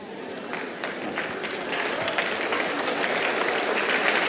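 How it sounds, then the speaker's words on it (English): Applause from an audience, a spread of many hands clapping that swells gradually and grows denser and louder toward the end. "This is one of those applause, that kind of applause that is going to grow as it goes around."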